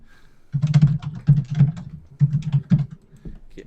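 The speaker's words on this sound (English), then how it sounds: "are you typing?" Bursts of keystrokes on a computer keyboard come in short quick clusters separated by brief pauses, close and fairly loud.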